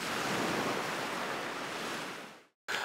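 Steady ocean surf, played from a speaker as white noise, washes in a broad, hissing roar that fades out briefly before resuming.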